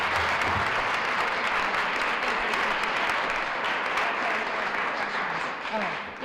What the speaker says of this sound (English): I do want a special round of applause for Senator Donna Nesselbush